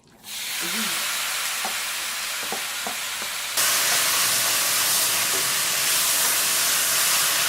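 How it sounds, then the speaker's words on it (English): Spicy pork stir-fried in a wok gives a loud, continuous sizzling hiss with occasional spatula scrapes, and the frying grows stronger partway through. "you just need to stir it until the pork fully cooked"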